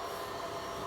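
A timing pump on a cider pasteurizer runs with a steady, even mechanical whir and hiss, continuous and unchanging for the brief moment it's heard.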